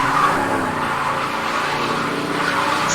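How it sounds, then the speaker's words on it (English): A car speeds off in the Silent Hill 2 video game, its tires skidding with a loud, continuous squeal over a steady engine roar. "you're getting into your car and speeding off"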